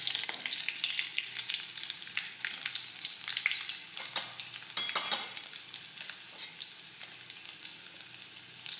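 Mustard seeds, cumin, garlic and curry leaves sizzle in hot oil while dal is prepared. The close, steady crackle is full of sharp pops, with a burst of louder spattering midway, and no one speaks.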